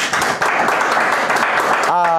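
Church congregation applauding during a worship service, a steady wash of clapping from many hands with voices mixed in, continuous and fairly loud for about two seconds before a brief sung or spoken note at the end.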